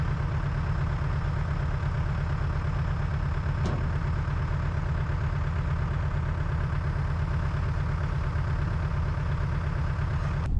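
A backhoe engine idles steadily with a low, continuous rumble while wood chips are unloaded from a dump bed, with one brief knock partway through.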